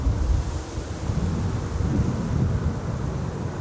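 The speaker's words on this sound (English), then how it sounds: "More wind" Wind sweeps across the Kaagbaan runway at Schiphol airport, a steady low roaring rush that buffets the microphone for the whole stretch, with no voices or other clear sounds.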